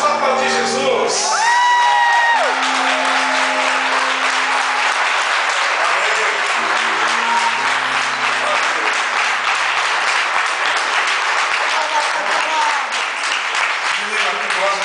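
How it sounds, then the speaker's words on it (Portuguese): A church congregation breaks into sustained applause, dense clapping filling the room with scattered whoops and shouts, while a voice rings out over the start. "Vamos aplaudir Jesus!"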